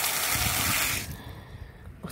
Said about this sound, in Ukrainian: Тільки що, ось зараз відкручу кран, покажу.